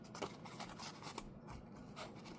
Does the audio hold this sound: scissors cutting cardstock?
yes